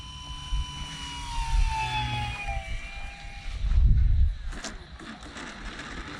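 An E-flite Commander mPd 1.4m electric RC aerobatic plane comes in to land on pavement with full flaps, its motor a steady whine that rises to a louder, closer surge near the end before fading.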